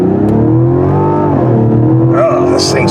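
Engine of a 2024 Mazda CX-90 SUV growling loudly at high RPM under hard acceleration, a close, continuous rising roar with shifting tones.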